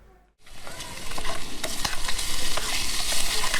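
Sausages fry in a pan on a Trangia camp stove, starting with a brief quiet moment before a loud, steady sizzle takes over with spitting pops throughout.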